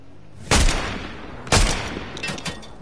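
Gunfire in the video game Fortnite: two loud, sharp blasts about a second apart, each trailing off, followed by fainter scattered shots nearby.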